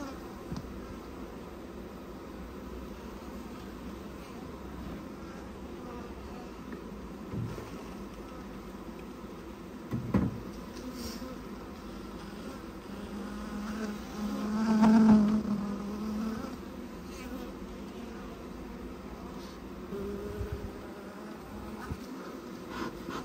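Honeybees buzzing inside an open hive during queen rearing, drones among them, a steady close insect hum with a louder swell of buzzing around the middle.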